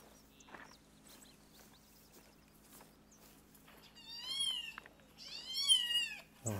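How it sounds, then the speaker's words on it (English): A kitten in the hunting game theHunter: Call of the Wild gives two rising, wavering meows near the end, faint at first then louder, over a quiet hum. "this little kitten,"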